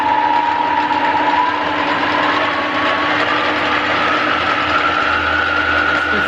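A 1977 Schaublin 13 lathe runs up to its top speed of 2000 RPM, giving a loud, steady mechanical whine with a faint pitch rise near the end and no talking.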